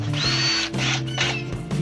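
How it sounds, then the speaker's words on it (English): A power drill with a stripped, slipping drive whirs in three short, close, loud bursts during fridge and wet bath removal, its motor whine rising and dropping with each pull of the trigger. "Sounds like my drill is stripped out."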